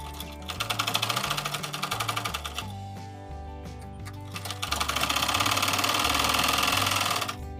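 A sewing machine stitches cover seams on a puff sleeve, its needle chattering in fast rhythmic bursts that pause briefly and restart, close and steady with a mechanical hum beneath.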